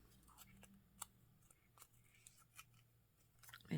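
Scissors cut out a small printed paper tag, producing faint, sparse snips and light rustles spaced irregularly, quiet and close, ending with a louder handling bump.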